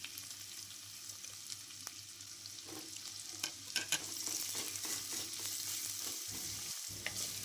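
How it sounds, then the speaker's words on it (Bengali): Finely chopped onions frying in a pan for a water spinach dish, giving a continuous close sizzle with scattered stirring clicks and scrapes that grow busier toward the end. "এবার এই পেঁয়াজটাকেও খুব ভালো করে কিন্তু ভেজে নিতে হবে, একদমই লাল লাল করে।"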